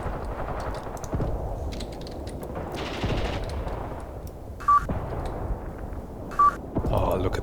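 In the Graviteam Tactics war game, 5 cm anti-tank guns fire a series of sharp reports over rumbling battle ambience, with two short electronic beeps between the shots.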